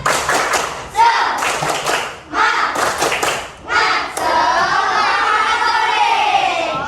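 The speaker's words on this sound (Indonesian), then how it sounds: "Tepuk semangat" Children do a rhythmic spirit clap in a classroom, sharp bursts of hand claps in short groups with brief gaps, ending in a sustained mix of clapping and excited voices.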